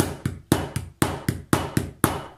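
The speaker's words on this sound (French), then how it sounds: "On tient bien et coup de marteau." A hammer strikes a setting tool for a fastener on a stitchless card holder or coin purse, six sharp, evenly spaced blows about half a second apart, each with a small rebound tap, loud and close.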